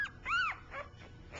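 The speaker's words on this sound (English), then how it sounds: "Oh, a little bark. Yeah. Little baby bark." A one-week-old puppy lets out a small, high yelping bark followed by a couple of soft whimpers, close and fairly quiet.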